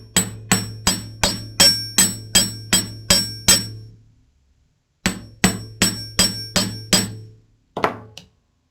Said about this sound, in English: so that I'm hammering